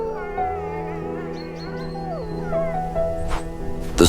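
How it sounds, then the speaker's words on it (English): Sustained, wavering howls of a wolf pack in snowy woods rise and fall in overlapping tones, several voices layered into a mournful chorus, moderately close and fairly loud throughout. "Howls stitch the woods and ridges together."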